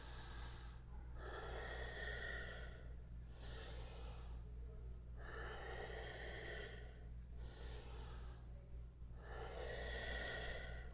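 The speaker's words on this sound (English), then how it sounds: "A few breaths here." Slow, deep yoga breaths, with long audible inhales and exhales repeating in a steady rhythm close to the microphone over a low constant hum, with no talking.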